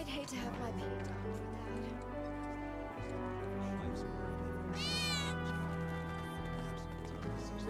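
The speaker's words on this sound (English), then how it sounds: "you hear that just now? I think one of Betty's cats might be nearby" A cat meows within the Final Fantasy VII Remake video game, a rising, wavering cry standing out briefly near the middle over a dense bed of game music and effects.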